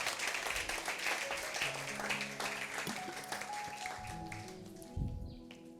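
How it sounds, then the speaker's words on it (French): A church congregation applauds during a service, dense sustained clapping from many hands that thins out toward the end, with faint voices and a brief tonal sound mixed in. "Applaudis le Seigneur avec moi encore une fois."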